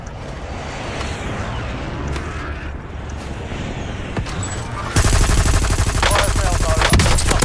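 Call of Duty Warzone gunfire starts as scattered shots over background match noise, then breaks into loud, rapid automatic bursts close by for the last few seconds.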